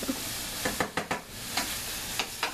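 Shrimp searing in a hot pan with marinara cooking, a soft steady sizzle broken by several sharper crackles and pops, fairly quiet with no talking.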